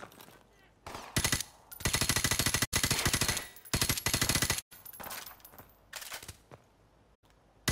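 Rapid automatic gunfire from Call of Duty 4: Modern Warfare comes in several loud, close bursts of fast repeating shots, separated by brief pauses, with no talk over it.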